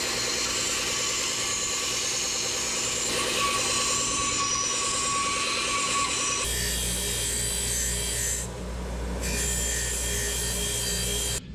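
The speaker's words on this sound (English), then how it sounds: "Do not fear, we got a belt sander right over here." A belt sander grinds a small metal velocity stack for a 1930 Ford hot rod, giving a steady, loud abrasive rasp that shifts to a heavier, deeper grind partway through and runs close and continuous.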